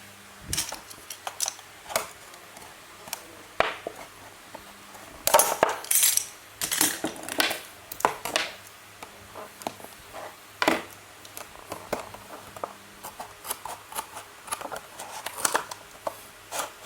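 Scissors cut through material in a building project, giving sharp close snips and clacks scattered irregularly, along with rattling handling noises and occasional louder clatters in between.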